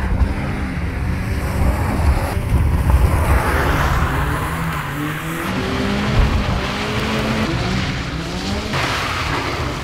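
Car drifting around cones on a track, engine roaring under load with shifting revs while tires squeal and skid, loud and close, continuing for several seconds without any talking.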